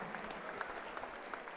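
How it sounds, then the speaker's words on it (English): A crowd applauds after a five-round Fight UK bout between James Dixon and Aiden Lee, the clapping faint and distant, a steady patter with no voices rising above it. "Let's have a massive, massive round of applause."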